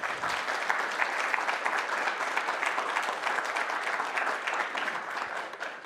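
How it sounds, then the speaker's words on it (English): An audience at a tech talk on Trino analytics claps for the presenter, a sustained, even wash of applause from a roomful of people, moderately distant and without speech. "let's give Jonas a round of applause."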